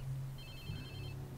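A phone ringing in Watch Dogs 2, a brief electronic ringtone chirp heard faintly over a low steady hum.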